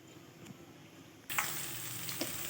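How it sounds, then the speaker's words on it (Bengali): Soybean chunks dropped into hot oil in a wok, with turmeric and salt, set off a sudden loud sizzle halfway through after a quiet simmering hiss, then crackle steadily. "এবার সয়াবিনগুলো তেলের ভেতর দিয়ে দেব"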